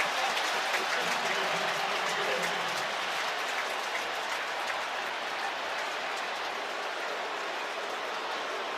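Spectators fill a stadium during an NFL game between the Kansas City Chiefs and Baltimore Ravens, their broad, loud roar of cheering and clapping holding steady and gradually easing slightly.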